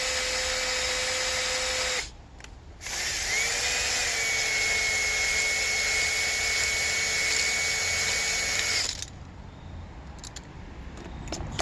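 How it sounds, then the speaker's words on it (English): A hone spins steadily inside a ported engine cylinder, producing a loud, continuous whirring drone that stops briefly near the start, then runs for several seconds before cutting out; nobody speaks. "I could hone this all the way out to nothing."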